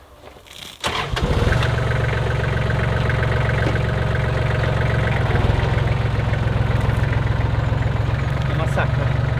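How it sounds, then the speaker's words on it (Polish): A tractor engine turns over and settles into a loud, steady running drone, close by in a soggy, muddy field. "Odjadę traktorem, co?"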